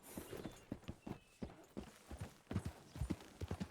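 Horse hooves clip-clop in a steady, fairly quick walking rhythm in Red Dead Redemption 2, close and clear with no talk.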